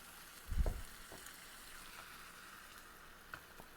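Shrimp stock poured into a hot pan for shrimp and grits, one loud bursting sizzle near the start that settles into a faint steady hiss with a few small pops, no talking.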